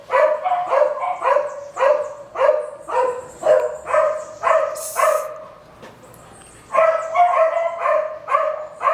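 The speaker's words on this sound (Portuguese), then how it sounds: "Se os cachorros pararem de latir, me ajuda." Several dogs bark steadily and close by in a rapid repeating rhythm, pausing briefly before the barking resumes.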